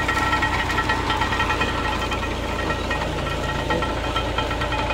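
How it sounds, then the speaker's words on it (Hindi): A tractor engine chugs steadily nearby in a Pakistani village where sugarcane is being juiced, with a rough, knocking low rumble and rattling vibration continuing without talk. "ये ट्रैक्टर चल रहा है।"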